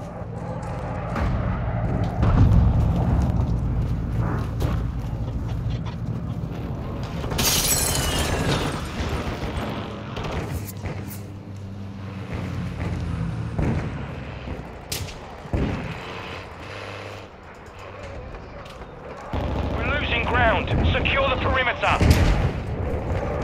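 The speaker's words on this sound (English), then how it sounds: "Hostile airstrike near your location" Airstrike explosions in the video game Call of Duty Modern Warfare 2 on Sarrif Bay: heavy booms and crackling blasts roll through dense battle noise, with gunfire bursts and a voice speaking over the din.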